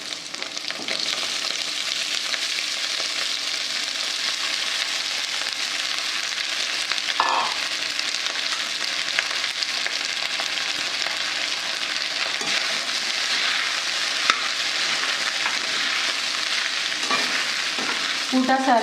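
Soaked sabudana and potato frying in a pan while being stirred, a steady close sizzle with scraping strokes of the spoon running throughout, no voices.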